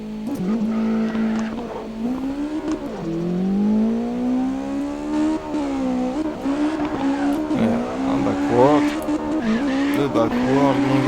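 Car drifting in the video game CarX Drift Racing, a sustained engine whine rising and falling with revs alongside tire squeal, while a person talks over it.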